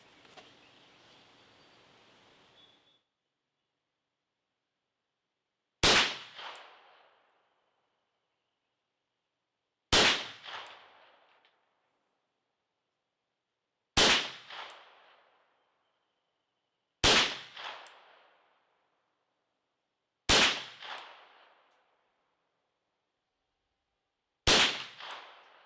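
A Ruger PC9 carbine fires at targets 25 yards away outdoors: six sharp, loud single shots spaced several seconds apart, each with a short fading echo, and silence between them.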